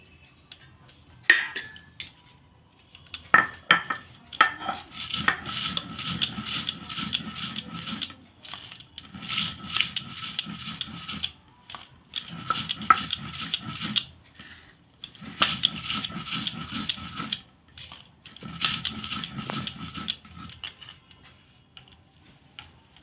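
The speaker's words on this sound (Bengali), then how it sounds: "এবার আমি ভাজা মশলাটা বেটে নেব।" Fried spices for chalta (elephant apple) pickle are ground coarsely, likely on a stone slab, giving repeated bursts of scraping, gritty rubbing in rhythmic strokes with short pauses between them, with no talking.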